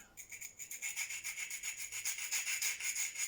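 A knife is sharpened on hand-held Venev diamond stones in fast rhythmic back-and-forth strokes, a close, quiet gritty rasp repeating about four times a second with no talk.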